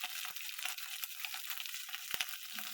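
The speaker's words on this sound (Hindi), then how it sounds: "थोड़ा सा पेस्ट को फ्राई कर लेंगे" Masala paste with garam masala and chili powder frying in a pan for masala baigan bharta, a steady close sizzle with a few sharper crackles and stirring scrapes, no voices.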